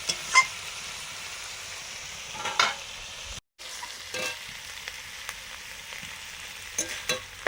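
Soft, steady sizzle of onions frying lightly over low heat in a pan, broken by a few light clinks of stirring and a brief silent gap midway.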